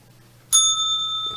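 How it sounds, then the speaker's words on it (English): A single bell strikes sharply and leaves a clear, sustained ringing tone that slowly fades, close and alone against faint background hum. "That bell's for somebody."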